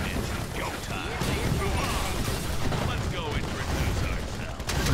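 Dense gunfire and artillery from a video game battle with artillery tanks and grunts assaulting bunkers, a continuous loud barrage of overlapping shots and booms that fills the whole stretch with little letup.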